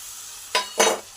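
Tomatoes drop into a pan of frying onions with two quick bursts of loud sizzle over a quiet background hiss, close by and brief, with no voices.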